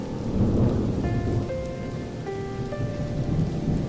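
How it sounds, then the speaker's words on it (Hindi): Dense, heavy rain pours steadily with a low rumble of thunder, while a few faint tonal notes drift over the downpour. "भगवान जाने ये बारिश कब थमेगी।"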